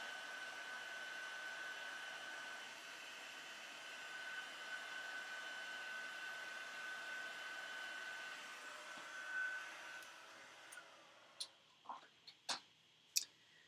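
A heat gun blows steadily to melt embossing powder for a craft project, a continuous faint whir, then switches off, followed by a few light clicks.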